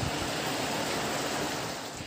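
Rising sea waves churned by a typhoon in Leyte, a dense, continuous roar of surf and wind filling the short stretch at steady loudness.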